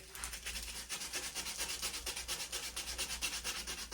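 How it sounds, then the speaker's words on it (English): Steady rhythmic scratching of 80-grit sandpaper rubbed back and forth over wood, close and continuous with even strokes throughout. "for my final sanding about an 80 grit"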